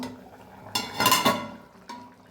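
A pot of yam curry is opened and stirred, producing a few close metallic clinks and scrapes of a utensil against the pan, then a quieter knock near the end, with no talking.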